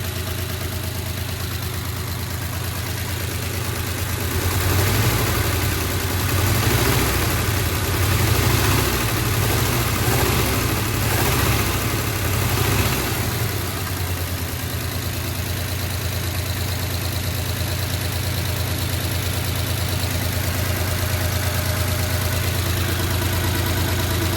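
A 1969 Chevrolet C10 pickup's engine idling, a steady low rumble that runs throughout, swelling a little louder for several seconds before settling back to an even idle.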